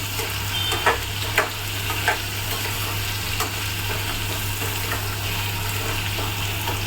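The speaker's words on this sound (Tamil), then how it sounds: "நல்லா மிக்ஸ் பண்ணிடுவோம்" Potato pieces fry in a pan and are stirred, giving a soft sizzle with a few sharp utensil clicks over a constant low hum.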